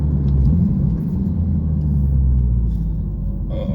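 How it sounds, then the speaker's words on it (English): Steady low engine rumble heard from inside a Porsche Turbo S, droning evenly throughout with no voices. "the sound of like the engine and everything is definitely louder on the inside"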